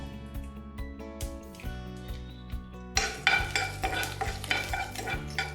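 Mustard seeds, ginger and curry leaves frying in a pan of ghee: a spoon stirs and scrapes near, and a soft sizzle thickens midway, with a low tonal hum underneath and no talk.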